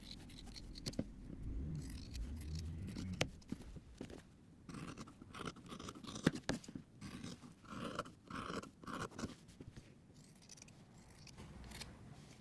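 Scissors snipping close along a seam allowance on a quilted fabric notebook cover, a string of quiet, close, irregular cuts with faint scraping, no talk.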